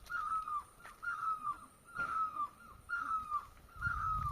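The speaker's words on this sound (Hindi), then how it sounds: "देख सकते हैं चिड़िया कितना प्यारा आवाज कर रही है मौसम खुलते ही" Birds call out in the mountain hills as the weather clears after snowfall, with a harsh, cawing cry repeated about every second, five or so calls in a steady rhythm at moderate distance over quiet outdoor background.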